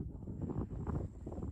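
Wind gusts outdoors beside water with a buoy nearby, steady broadband rumble and buffeting pressed close against the microphone for the whole moment, with no speech.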